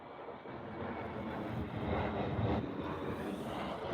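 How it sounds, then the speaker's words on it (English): An airplane passes overhead as a steady, broad engine roar that swells slightly toward the middle and stays loud and continuous throughout, with no talking. "Hold on, we got an airplane coming here."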